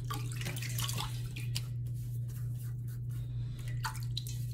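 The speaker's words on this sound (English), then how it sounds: "Wet the face a little bit." Water splashing and dripping as a face is wetted before a wet shave with a vintage double-edge razor, steady close trickling over a constant low electrical hum.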